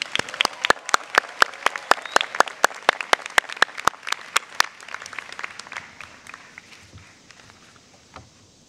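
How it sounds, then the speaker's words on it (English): At a university convocation the audience gives a round of applause that begins as sharp, spaced, nearby claps and quickly thins out and fades to a few scattered claps. "Let's have another round of applause for Quaker Notes."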